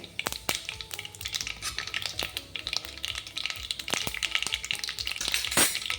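Cumin seeds and bay leaf sizzle and crackle in hot oil for chole bhature, a steady close frying hiss with sharp pops and stirring taps, no voices.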